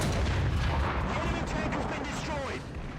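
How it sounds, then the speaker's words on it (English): In the War Thunder tank game, a tank gun fires and booms loudly as the shell strikes a Panther D from the side, the blast trailing off into rumbling debris and ringing tones. "Take out a Panther D with a side shot"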